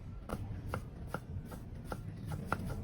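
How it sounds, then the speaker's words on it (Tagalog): Three hotdogs are chopped finely with a knife on a board in steady, evenly spaced thuds, about two per second, close and fairly soft, with no voices. "hiwain lang natin na medyo pino"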